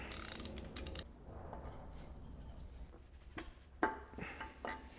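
Pistons being removed from an Alpina B7 engine with catastrophic damage, heard as metallic clicks, scrapes and ratcheting clatter at close range, with a sharp clank just before the end.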